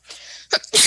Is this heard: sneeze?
yes